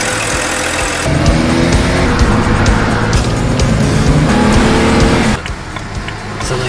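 BMW car on a test drive after a vacuum leak repair with O-ring replacement, its engine and road noise rising into a steady loud roar, then dropping away near the end.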